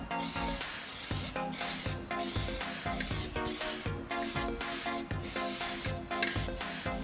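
An aerosol spray can lays a thin first coat on a Range Rover Sport L320 hood, giving a close, steady hiss broken by rapid rhythmic pulses as the nozzle sweeps back and forth, with no one speaking.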